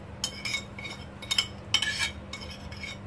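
Chicken shawarma marinade with soy sauce and spices being mixed in a bowl, heard as short bursts of utensil clinks and scraping against the dish, close and moderately loud, with pauses between strokes and no talking.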